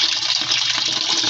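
Steady rushing water pours into the tub of an automatic washing machine during a deep tub-cleaning cycle with baking soda and vinegar, a loud, continuous hiss with no pauses.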